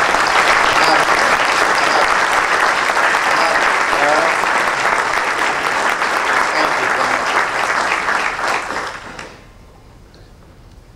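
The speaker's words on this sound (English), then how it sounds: "I'd like them just to stand if I can get a round of applause." A roomful of people applauds Chicago Department of Transportation staff at a morning gathering, dense, sustained clapping for roughly nine seconds that tapers off into near quiet.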